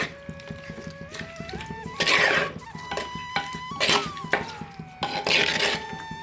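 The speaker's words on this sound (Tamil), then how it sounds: "இப்போ நம்ம ஏற்கனவே வேக வச்சுருக்க மட்டனை அதோடு சேர்த்துக்குவோம். இதையும் நல்லா ஒரு கிளறி விட்டுருவோம்" Mutton and masala stirred in a cooking pot, with repeated metallic scrapes and clinks of a ladle against the pot, swelling in three louder bursts of stirring.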